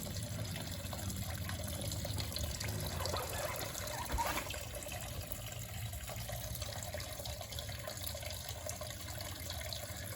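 Fluid drains from a 1984 Volkswagen Rabbit being stripped of its engine for an electric conversion, splashing into a pan as a steady, continuous trickle throughout, close by and with no talking.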